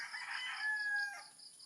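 A rooster crows once on a farm, faint and a little distant, its drawn-out call rising and trailing off over a quiet background.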